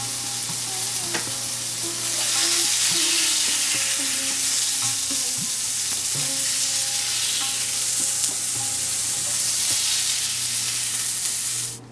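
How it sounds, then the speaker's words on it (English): Brinjal frying in oil in a pan, a loud continuous sizzle with intermittent stirring scrapes lasting the whole time, no talking. "Brinjal is now fried."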